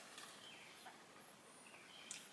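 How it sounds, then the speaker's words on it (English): Birds singing outdoors in warm weather, faint scattered chirps and tweets high above a steady low background hiss, heard from a distance with no talking. "Can you hear the birds? You should be able to."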